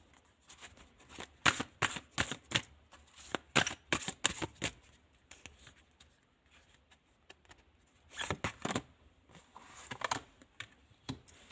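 Tarot cards are shuffled and drawn from a deck in quiet bursts of soft riffling and slapping. Brief pauses separate the bursts, and the sounds are close and fairly faint, with no talking.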